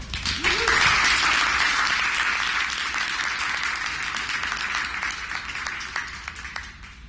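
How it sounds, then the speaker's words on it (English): Audience at a game design meetup gives a speaker a round of applause: clapping swells quickly after a short whoop, stays full and steady, then thins toward the end. "let's give a round of applause for Chris Figueroa"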